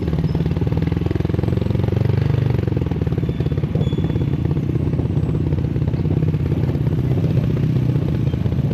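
A motorcycle engine runs steadily close by on a Lake Holon hiking trip in South Cotabato, a loud, rapid clattering putter that barely changes across the whole stretch.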